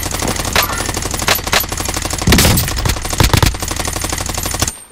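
Video game gunfire in rapid automatic bursts, loud and dense, with several heavier shots standing out, running continuously before cutting off abruptly near the end.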